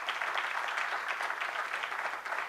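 An event audience claps steadily and densely throughout, a full sustained round of applause with no voices over it.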